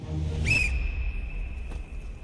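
A whistle gives one sharp, sustained blast as a signal, starting abruptly and holding a steady pitch for nearly two seconds, fairly close and loud over a low background rumble.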